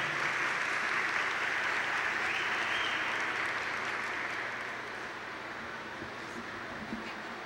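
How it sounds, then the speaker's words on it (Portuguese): Applause from the audience at a 1993 school graduation ceremony, a continuous dense patter of many hands heard from some distance, fairly quiet, easing slightly toward the end. "Uma salva de palmas."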